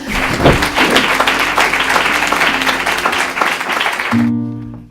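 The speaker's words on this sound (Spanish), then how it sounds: "agradezcamos a Ramón Casas su presencia aquí con un fuerte aplauso." A room full of people at a diploma ceremony applauds loudly with sustained, dense clapping, which stops abruptly as a musical chord begins.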